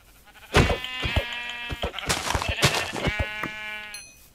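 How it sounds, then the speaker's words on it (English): Several sheep in Minecraft bleat one after another, each a short wavering nasal cry, close and fairly loud, with brief gaps between calls. "Sheep."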